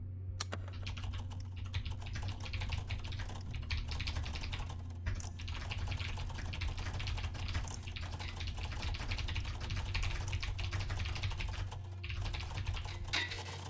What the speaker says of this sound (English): I started typing too fast